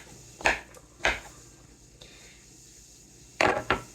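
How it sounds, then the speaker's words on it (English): A knife chops mushrooms for stuffed peppers on a board, giving four sharp, separate wooden knocks in two pairs with quiet gaps between them. No talking. "I'm just concentrating on cutting my mushrooms and dicing them up"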